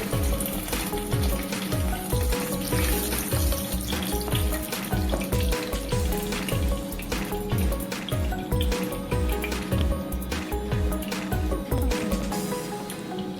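Okra frying in oil in a pan, a loud, steady crackling sizzle that runs throughout with a rhythmic low pulsing underneath and no voices.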